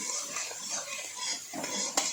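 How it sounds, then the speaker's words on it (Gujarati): Capsicum and mixed vegetables roast in a pan over a full gas flame for Manchurian pulao, giving a steady close sizzle with scraping stir strokes and a sharp utensil clink near the end. "કેપ્સિકમને શેકવાના છે ફૂલ ગેસ ઉપર તમારે."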